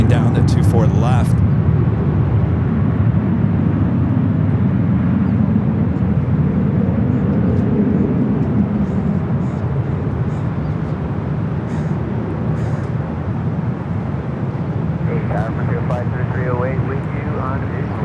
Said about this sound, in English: Delta west, EJet now rolling down at 24 left